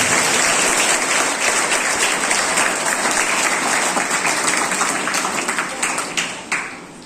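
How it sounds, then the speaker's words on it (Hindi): An audience at a talk on journalism and poetry applauds loudly and steadily, the dense clapping thinning into scattered claps near the end. "एक ताली देना चाहूंगा हमारे।"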